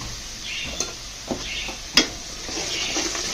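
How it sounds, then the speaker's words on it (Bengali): Spices with turmeric and chili powder are stir-fried in a pan, giving a steady close sizzle broken by a few sharp scrapes and taps of the utensil. "এখন ভালোভাবে কষিয়ে নেবো।"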